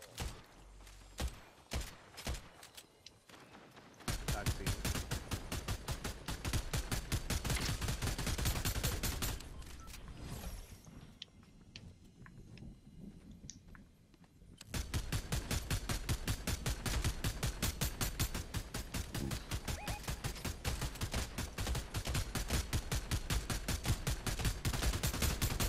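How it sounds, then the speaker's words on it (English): A video game turret fires in long rapid automatic bursts, loud and dense, with a short quieter lull between two sustained volleys. "Oh, somebody put down a turret."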